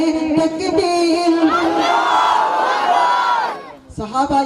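A crowd at a Hamd o Naat religious gathering in Selu, Parbhani roars a takbeer chant in unison. A single voice leads at first, then many voices swell into a loud, sustained shout before breaking off, with a brief voice at the end.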